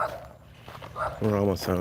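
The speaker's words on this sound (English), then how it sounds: "Sorry about the dog, guys." A dog barks in short bursts near someone driving an RC car at a riverbank, with someone talking over and between the barks.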